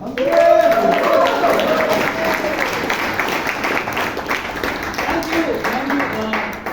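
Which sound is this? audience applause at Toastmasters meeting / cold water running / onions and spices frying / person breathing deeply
audience applause at Toastmasters meeting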